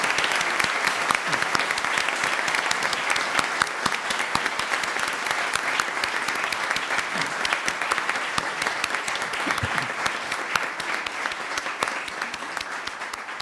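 Dense, steady applause from an audience fills a formal induction ceremony welcoming Minister Margarita Beatriz Luna Ramos into an association, with sustained clapping throughout and no break.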